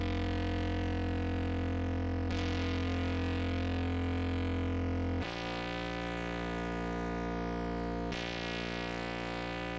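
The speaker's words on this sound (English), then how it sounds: "I added a free fat distortion and also added some EQs and a stereo enhancer just to make it feel a little more wide" Bass guitar run through heavy fat distortion, EQ and a stereo enhancer in a shoegaze track: a thick, sustained, buzzing wall of fuzz with steady low drones, changing in blocks every few seconds, loud and alone.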